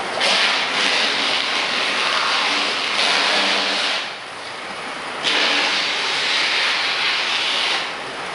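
A 2014 Ford Edge on 22-inch rims and tires has its wheels turned, with a loud, broad engine and rolling roar that swells, dips briefly around the middle, then surges again, close by.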